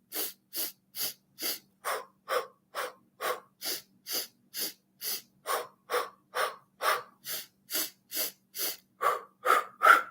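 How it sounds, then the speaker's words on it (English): Rhythmic breathing in an even pulse, short sharp sniffs through the nose alternating with breathy exhales, about two per second, close and unaccompanied. "And so you breathe in 4 times through your nose,"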